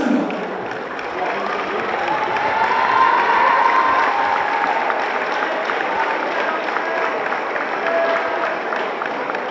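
Audience applause and cheering at the Miss Houblon 2013 beauty pageant, a sustained crowd clapping that swells in the middle and carries on steadily, with a voice briefly over it.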